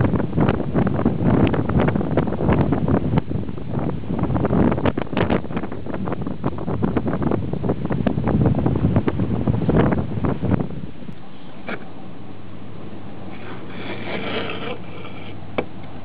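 Gusty wind batters the microphone outdoors, loud rough buffeting for about ten seconds before easing to a quieter hiss at the end.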